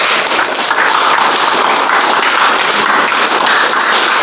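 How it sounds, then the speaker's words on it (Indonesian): A class applauds a student group that has just presented its discussion results, a dense continuous wash of many hands clapping at steady loudness throughout, no voices standing out. "Baik, kalau begitu tepuk tangan kita semua."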